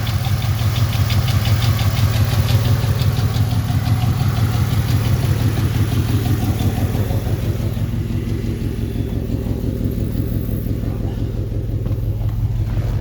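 A car engine with a suspected lifter fault idles steadily up close, a continuous low rumble with a fast ticking knock running through it.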